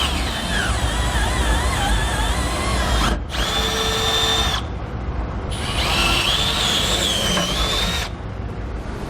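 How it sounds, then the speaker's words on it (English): Power drill boring 3/8-inch holes through a metal plate while fitting a D-ring tie-down anchor; a loud, continuous whining drill with rising and falling pitch, briefly pausing twice between holes. "We're going to drill our holes out to 3/8 of an inch."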